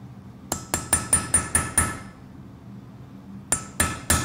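A hammer strikes a chisel on hot metal while forging a rune necklace: a steady run of seven ringing blows, a short pause, then three more, each sharp, loud and close.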